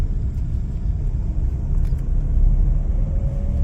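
A car drives along a site road in a housing development in DHA Gujranwala, its steady low engine rumble and road noise filling the recording, close and continuous with no talk.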